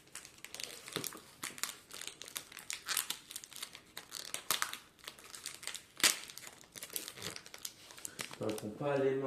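Wrapper of a Mr Bean chocolate bar crinkled and pulled open by hand, close bursts of crisp rustling and crackling in uneven spurts, with a voice talking intermittently over it.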